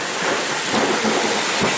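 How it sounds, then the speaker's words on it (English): Heavy rain driven sideways by strong wind pounds against the front of a barn, a loud, dense, continuous hiss and roar with no pauses and no voices. "The rain is going sideways directly into the front of the barn."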